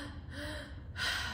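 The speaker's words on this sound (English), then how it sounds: "Belly, chest, exhale." A single forceful breathwork exhale, a sharp breathy gasp-like rush of air that swells louder toward the end, close and alone without talk.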